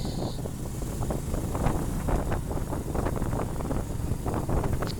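Steady, loud wind roars over the microphone on a short motorcycle ride near Caticlan, with the low engine rumble blended underneath and no pauses.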